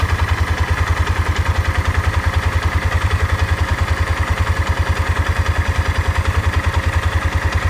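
A small four-wheeler ATV engine idles with a steady, rapid low thumping, even and unchanging throughout, close by with no other sounds.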